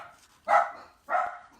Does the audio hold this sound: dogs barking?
yes